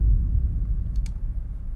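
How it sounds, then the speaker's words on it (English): Simple boom sound effect for a montage transition: a deep, low rumbling impact that fades gradually over under two seconds, with a couple of faint clicks midway. "I'm just using a simple boom that sounds like this"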